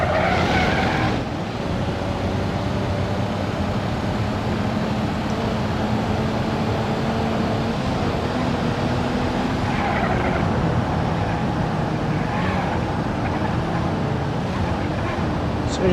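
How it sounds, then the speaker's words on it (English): Stock diesel car in the BeamNG.drive video game driving slowly through a flood, a steady droning engine and rushing water wash, continuous and fairly loud with no clear breaks. "Stock diesel is very slow."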